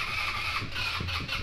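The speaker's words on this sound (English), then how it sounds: "Just keep cranking it over." A 150cc go-kart engine is cranked over by its starter, a short, fairly quiet burst of rapid, uneven churning that does not catch, with no voices.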